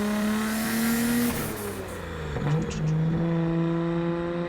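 Nissan Skyline GT-R R34 with a Tomei exhaust revving at higher RPM while driving: a loud, close engine note that climbs, dips at a shift, then holds steady, with no talk.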